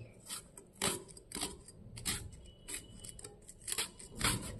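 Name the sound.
knife finely cutting cabbage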